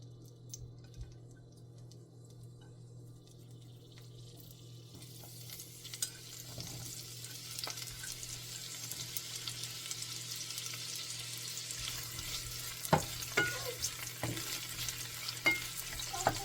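Onions hit hot oil in a small, shallow pan while cooking hot oil roti with pumpkin and shrimp. The sound starts quiet, then builds into a steady sizzle and crackle with occasional stirring clicks.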